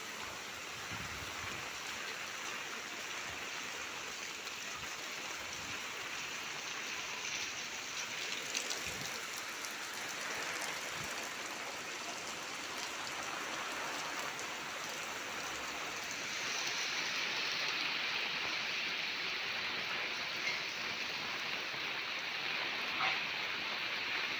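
Heavy monsoon rain falling steadily in the village of Bhor, a dense continuous hiss that stays even throughout and grows slightly stronger toward the end, with no voices.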